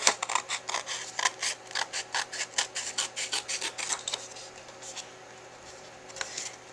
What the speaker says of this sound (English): and then I'm going to just trim this off with the scissors